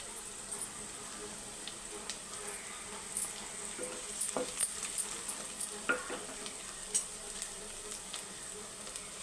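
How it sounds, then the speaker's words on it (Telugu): Onions and green chilies fry in oil in a pan, a quiet steady sizzle with scattered stirring clicks and scrapes, heard close up with no talking. "ఉల్లిపాయలు అయితే నూనెలో మొగ్గుతున్నాయండి మనం అయితే ఇందులో మనం పచ్చిమిరకాయలు అయితే యాడ్ చేసుకున్నాం"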